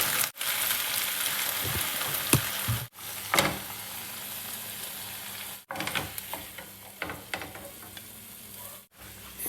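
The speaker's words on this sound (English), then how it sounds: "You fry garlic. Sesame oil." Garlic fries in sesame oil while cooking spicy garlic chicken, a loud close crackling sizzle with stirring scrapes, broken by a few abrupt brief silences, no talking.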